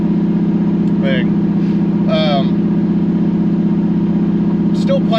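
A Camaro engine running at part throttle gives a loud, steady, even drone with a constant low rumble, while a person talks briefly over it.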